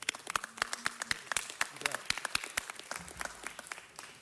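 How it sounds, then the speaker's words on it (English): Scattered claps ring out in a city council chamber, sparse and uneven hand strikes close by with people talking over them. "Joe, you deserve a round of applause as well."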